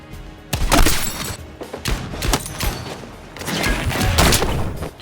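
Rapid bursts of rifle fire from an M44 in a shooter video game, loud repeated cracks in uneven clusters with short gaps, no talk over them.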